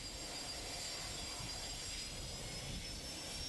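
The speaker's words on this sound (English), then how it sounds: "Let's take a look at a typical departure on a multi-engine aircraft." Engines of a multi-engine airplane running during taxi, a steady, continuous close-up drone with a broad roar and a faint high whine throughout, with no talking.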